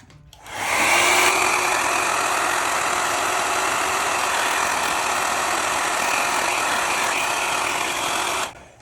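A hair dryer blows steadily across a watercolour landscape painting to heat and dry it, a loud, constant whooshing hum that switches on, runs unbroken for several seconds, then cuts off.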